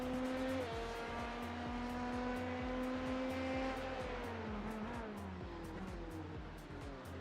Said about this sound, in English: Okay, Ollie, there's a faster class car approaching.